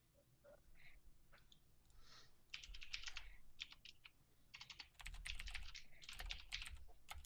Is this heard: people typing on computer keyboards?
yes